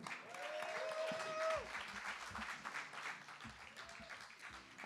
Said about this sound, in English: Can we have a massive, fabulous, stadium-sized round of applause for TASHA, Tarusova.